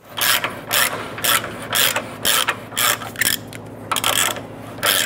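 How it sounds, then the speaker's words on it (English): A hand ratchet runs up a subframe bolt on a 2008-2013 Nissan Rogue, producing a loud, close series of rhythmic clicking bursts, each pull a quick rasping ratchet stroke, repeated about a dozen times with no talk. "we're going to go ahead and use our ratchet and just run it up a couple more threads to secure this"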